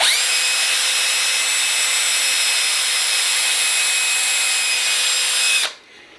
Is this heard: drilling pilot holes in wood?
yes